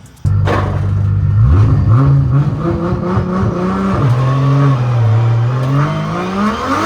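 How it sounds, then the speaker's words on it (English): A Nissan R31 wagon drift car with boost and big tires revs hard on a qualifying lap, its engine note climbing and holding loud in a sustained high-rpm roar, heard from trackside at close range. "that R31 wagon going here into outside zone number 1, nice and deep with the big tires on"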